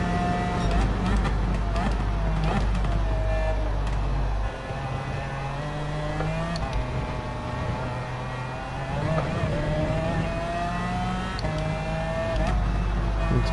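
Porsche race car engine in Gran Turismo 7 racing, a steady loud droning whine rising and falling through gear changes throughout, with a voice talking over it at times.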